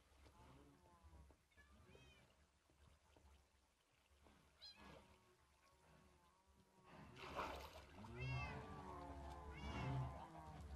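A cat meows repeatedly in the Minecraft video game, several short calls rising near the end over game sounds while someone talks throughout.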